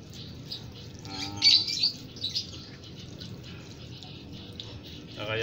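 A caged bird being bathed: brief, high chirps and tweets in a short burst, faint against a low background hum, with light water splashing and no clear talk.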